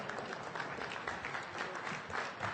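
Audience applause at a public debate, a steady, even patter of many hands clapping heard from a distance, fairly quiet throughout.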